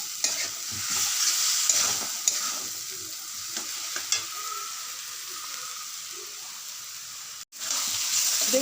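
Potatoes are stirred and mixed with coriander leaf paste as they fry in a pan, a steady close sizzle running throughout with occasional spatula scrapes and taps, briefly cut off near the end before resuming.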